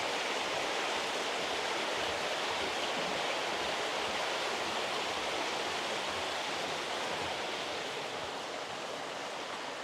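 A river rushes through Dhoon Glen on the Isle of Man, a steady, broadband wash of flowing water that stays even and fairly faint for the whole stretch, with no voices.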